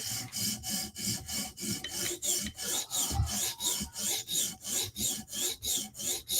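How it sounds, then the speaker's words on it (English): A Chris Reeve Sebenza tanto knife edge, S45 or MagnaCut steel, rasps steadily against a sharpening stone in even back-and-forth strokes, about a dozen close, regular passes with no talking. "Sharpen a little bit more on this edge."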